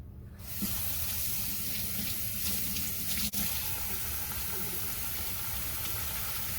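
Tap water runs in a steady, even hiss while hands are washed with soap beneath the stream, with no talking.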